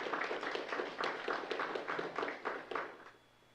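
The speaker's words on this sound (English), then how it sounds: "So big round of applause for this council" Scattered applause at a city council public meeting, a modest group clapping in a brisk, uneven rhythm at medium distance, fairly quiet overall, tapering off and stopping near the end.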